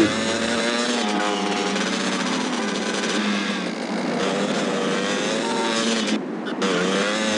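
A motorbike engine in the video game GTA Liberty City Stories drones loud and steady, its revving pitch wavering up and down throughout with no talk over it.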